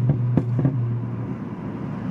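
A BMW with an MHD burble tune coasts at low revs, its exhaust giving a steady low drone with a few sharp pops and crackles near the start, then settling into an even rumble.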